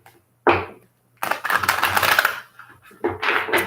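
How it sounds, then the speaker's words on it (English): A deck of angel oracle cards is shuffled in bursts of crisp riffling and clattering, one short flick, then a longer rustle and a final burst, close by and without talk. "I want to shuffle this deck."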